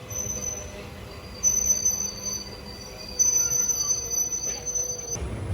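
Wheels of the Charvathur–Mangaluru Central passenger train squealing over a station crossover, thin sustained high-pitched whines starting and stopping above a rumbling carriage roll, with brief jolts near the end.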